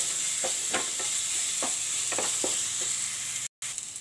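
Ginger-garlic paste fries in a pan for masala dahi aloo, a steady near sizzle broken by several spatula scrapes as it is stirred, with a brief dropout near the end.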